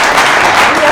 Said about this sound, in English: can we have louder applause for that?